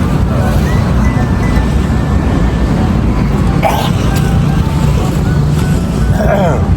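Steady wash of surf and wind rumbling continuously close by, with faint bird or voice sounds briefly rising above it.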